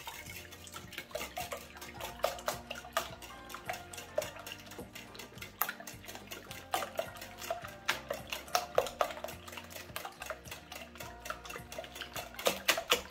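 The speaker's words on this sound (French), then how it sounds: "une fois que les œufs sont cassés à l'aide d'un fouet, on va les battre" A whisk beating freshly cracked eggs in a bowl for crêpe batter, quick steady clinking strokes against the bowl in an energetic rhythm with no talking.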